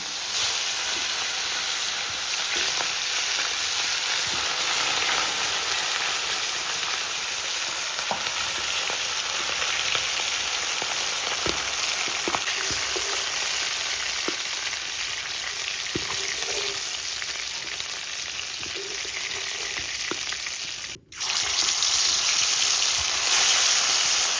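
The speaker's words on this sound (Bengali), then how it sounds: "তেল গরম হয়ে গেছে মাছটা লাল করে ভেজে নিই" Loud, steady sizzling and crackling of tilapia fish frying in hot oil, continuous throughout with a brief dip near the end.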